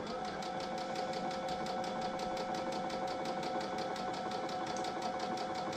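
A sewing machine runs steadily at reduced speed, its needle ticking in an even, rapid rhythm with a constant motor hum, close and moderately quiet, alone without talk.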